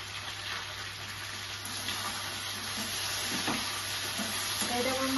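Meat fries in a pan with turmeric and salt, a steady close sizzle with faint stirring scrapes underneath, continuous and even throughout.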